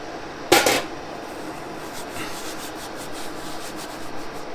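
Dried herb crushed and rubbed between the hands to grind it finer, a short, bright crackling burst followed by softer intermittent rustling, close and quiet.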